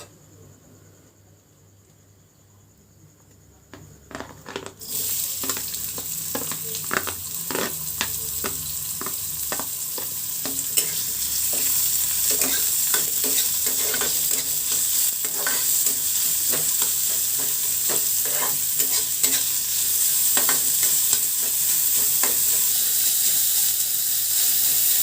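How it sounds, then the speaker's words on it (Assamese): Chopped onions drop into a pan with a little oil and start frying, a steady close sizzle that jumps up suddenly and holds, with scattered stirring scrapes and crackles and no talking. "আৰু মই যে কাটি ৰাখিছিলোঁ পিঁয়াজখিনি ইয়াতে মই দি দিম।"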